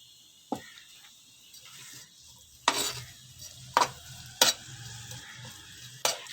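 Onion and green chilies lightly frying in a pan for an omelet, a soft low sizzle with a handful of distinct spatula strokes spaced a second or so apart, near and moderately loud, no speech.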